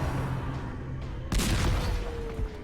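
A single booming cannon blast from the Brigand 12 Pounder in Darkest Dungeon erupts suddenly after a quiet, droning stretch, its loud crack spreading into a rumbling decay with a smaller thump near the end.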